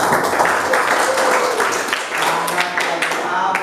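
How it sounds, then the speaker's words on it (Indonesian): A group of students applauds a presenting team in a classroom, sustained clapping mixed with chatter and voices throughout. "tepuk tangan untuk kelompok 2"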